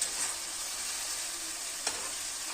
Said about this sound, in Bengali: 5-10 মিনিট নাড়লে এটা ভাজা ভাজা হবে